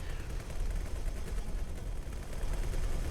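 Weapons and turrets fire in an X4 Foundations space battle, a dense, steady barrage of rumbling shots and low booms running continuously with no pauses.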